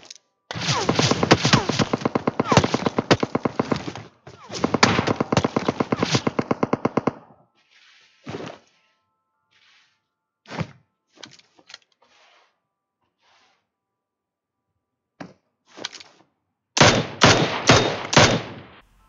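Gunfire in the mobile battle royale game PUBG Mobile, with long rapid automatic bursts up front, then scattered single shots and short volleys, ending in another dense burst.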